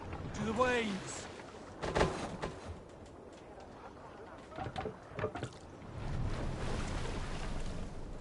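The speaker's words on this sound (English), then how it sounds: "Waves." Ocean waves in the Assassin's Creed Valhalla video game, a soft washing surge rising and falling under a man's speech, with some louder bursts and a low rumbling swell near the end.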